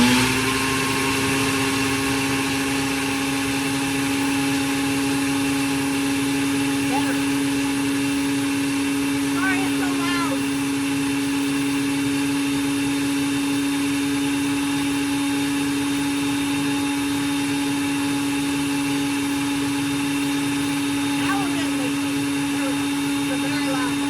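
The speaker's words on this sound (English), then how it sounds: "So now I got my smaller, my little single serve thing here, and we're gonna try that." A small single-serve blender liquefies an omelet mixture with a steady, loud, high motor whine that runs unbroken throughout.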